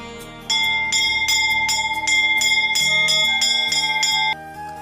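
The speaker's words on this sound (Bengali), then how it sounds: "চলো এবার ঘন্টাটা বাজিয়ে ফেলি" A temple bell rung by hand in rapid, even strokes, about a dozen bright metallic clangs with long ringing overtones, loud and close, then the ringing stops and fades.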